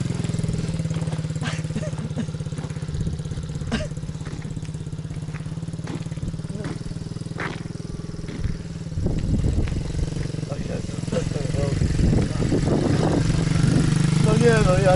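A small MRF 80cc dirt bike ridden by a five-year-old runs steadily throughout, its engine a continuous mid-pitched drone that swells near the end, while adults call out instructions and encouragement over it.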